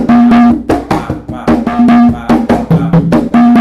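Latin percussion playing a clave variation that starts on the 3 side, with rhythmic struck hits and a tonal pitched voice over them; the voice may be vocalizing the pattern.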